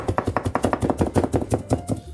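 A knife minces food rapidly and steadily on a cutting board, about eight even strokes a second, close up with no talking.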